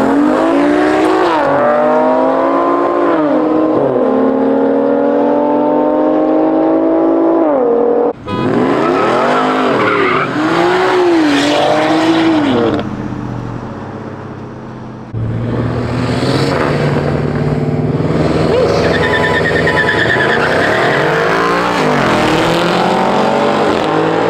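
Several race cars roar past in a close contest, engines loud and sustained with rising revs, tires squealing across three bursts of continuous, near and heavy noise.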